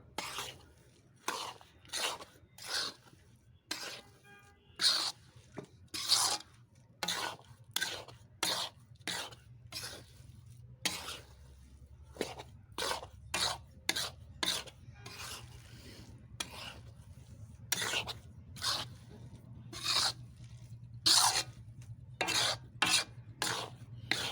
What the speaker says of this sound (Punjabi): ਬਿਲਕੁਲ ਸਲੋ ਜੀ ਫਲੇਮ ਤੇ ਨੂੰ ਉਨੀ ਦੇਰ ਪਕਾਵਾਂਗੇ ਜਦ ਤੱਕ ਹੁਣੇ ਗੁੜ ਨਹੀਂ ਮੈਲਟ ਹੋ ਜਾਂਦਾ